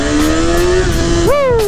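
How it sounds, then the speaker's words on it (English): A motorcycle from a 636 build runs loud and close at a steady idle before its engine revs sharply upward near the end. "let's see if we can rev her up a little bit"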